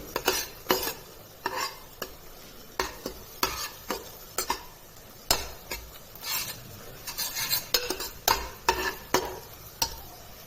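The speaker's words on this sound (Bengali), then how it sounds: "ফার্স্ট আমি ডিমটাকে ভালো করে ঝুড়ো করে নেব" Egg is scrambled and fried in mustard oil in a pan before leftover rice and vegetables go in: quick repeated spatula scrapes and taps in an uneven rhythm over a steady, soft sizzle, close and clear.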